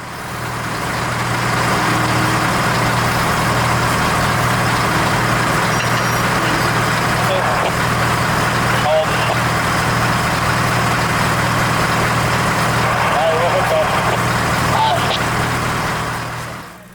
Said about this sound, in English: we'd be able to move the ballast regulator around using the 44-tonner